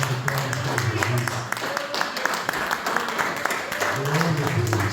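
A church congregation claps for Jesus in a dense, sustained round of applause with crowd voices mixed in, while a speaker's amplified voice carries over the top.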